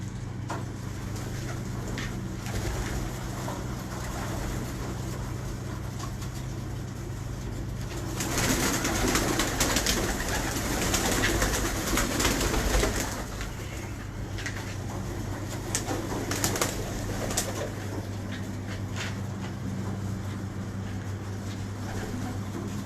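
Pigeons coo softly and repeatedly in a loft, low and nearby, under a steady background hum, with a louder burst of fluttering activity midway.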